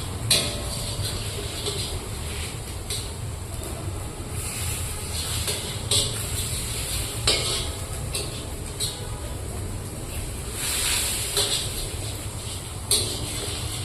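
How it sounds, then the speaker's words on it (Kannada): Grated coconut frying in a pan while cooking coconut rice, giving a steady broadband crackle and hiss with faint scraping clicks, close and continuous, with no talking. "ಕೊಕೊನಟ್ ಫ್ರೈ ಆಗಬೇಕು."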